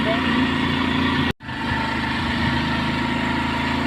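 A Honda Shine 125 motorcycle engine labours steadily in first gear up a hairpin bend on a mountain road near Ooty, a continuous mid-low hum with a brief dropout, under faint talk.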